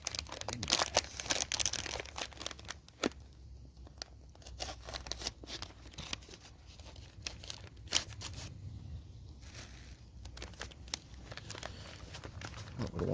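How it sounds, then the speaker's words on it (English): A packet of Thai jasmine rice is cut open at a wild camp, with crinkly plastic rustles and crunchy snips and tears, some sharp handling clicks, all close and fairly quiet. "some Thai jasmine rice. Let's cut the top of that off."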